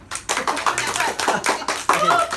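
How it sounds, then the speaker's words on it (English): A small audience claps at the start of a talk, a loose scatter of hand claps heard close, with people talking over and between the clapping. "give it a clap"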